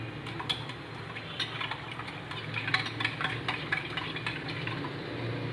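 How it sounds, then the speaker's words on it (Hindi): Yeast being mixed lightly into a sugar mixture for Turkish bread dough, heard as soft, quick ticks and scrapes of a spoon against a bowl over a steady low hum. "अब ईस्ट डाल देंगे, मिक्स कर लेंगे हल्का सा।"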